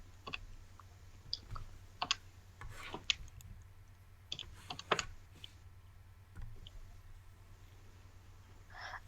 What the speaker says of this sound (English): So type in on our calculator